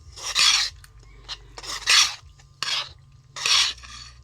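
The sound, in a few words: stirring flour and water batter mixture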